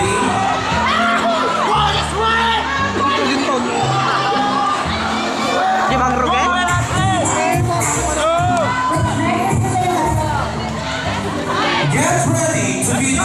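A crowd at a criminology department Christmas party performance cheers, whoops and shouts loudly and continuously, with excited yells rising in bursts throughout.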